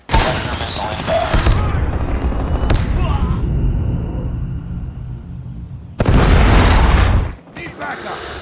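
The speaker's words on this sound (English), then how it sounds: "Predator missile inbound." In Call of Duty Mobile, a predator missile strike lands with heavy booming explosions amid dense gunfire, loud bursts surging and fading, with in-game voice callouts heard over the battle.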